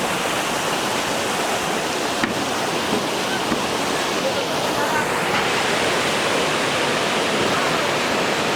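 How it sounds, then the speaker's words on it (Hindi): Natural waterfall at Kanhatti Garden pours in a steady, dense roar of white water, constant and close, with faint voices briefly under the rush. "ये है जी मेरे पीछे पानी वाइट है। आबशार।"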